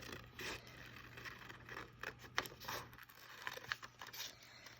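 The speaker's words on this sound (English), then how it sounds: "I'm just going to cut that out if you happen to have scissors handy" Quiet, irregular snipping and scraping of scissors through paper, several short cuts close by, with soft rustling between them.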